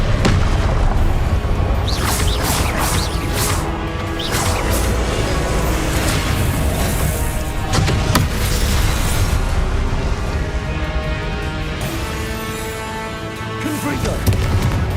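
Booming spell blasts from the Confringo fire spell in Hogwarts Legacy, a string of loud explosive bursts and cracks over dense game music and effects, with a voice speaking briefly among them.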